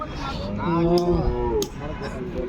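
A single bull moos once, a long low drawn-out call lasting over a second, at a weekly cattle market in Punganur, with faint crowd noise around it.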